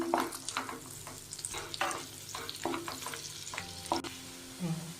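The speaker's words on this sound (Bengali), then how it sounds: "রসুনটাকে ভালো করে নেড়ে নিচ্ছি।" Chopped garlic frying in a pan for butter garlic chicken while being stirred, a soft continuous sizzle broken by repeated scraping strokes of the spoon, close and without talk.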